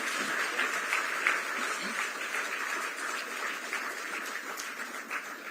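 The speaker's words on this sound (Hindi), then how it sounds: "तालियां लगातार और जोरदार हो।" Audience clapping at a government ceremony where the chief minister hands appointment letters to community health officers; a steady, moderately distant wash of applause continues throughout.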